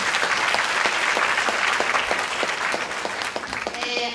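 An audience at a leadership workshop during a Hong Kong district conference gives a round of applause, thick continuous clapping from many people that holds steady and thins slightly near the end.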